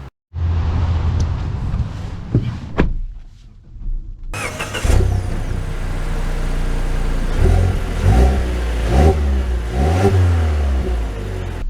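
A 2024 Mazda CX-5 Carbon Turbo starts and pulls away, its engine rising through steady revs as it accelerates, loud and close with no talk over it.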